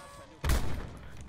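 Video game gunfire erupts after a quiet moment, a single sharp loud shot followed by a short burst of rapid reports, close and punchy.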